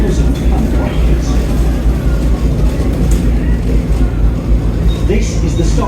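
A Brighton and Hove Volvo B7TL ALX 400 double-decker bus drives along, its loud, steady engine rumble and road noise filling the interior throughout.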